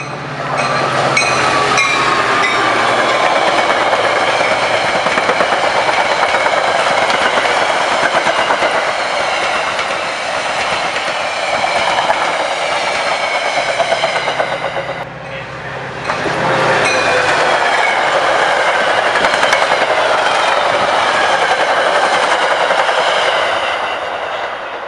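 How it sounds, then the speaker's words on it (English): A Metra BNSF express commuter train rushes through a station at speed without stopping, loud rumbling and rattling wheels with a brief dip midway before the roar resumes, close and sustained. "The next Metra train approaching your station will be a Metra Express train and"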